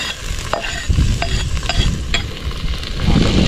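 Tomatoes frying in a pan with onions for a quail egg dish, sizzling steadily with occasional stirring scrapes, close and fairly loud, no talk.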